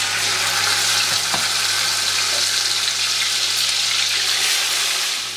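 Marinated mutton hitting hot butter and oil for a mutton makhni curry, giving a loud, steady, broadband sizzle that runs unbroken throughout, with a brief clink near the start.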